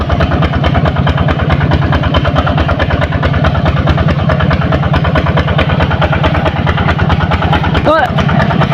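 A motorcycle climbing a rough rural hill road chugs loudly and close with a steady, rapid thumping engine pulse, and someone talks over it.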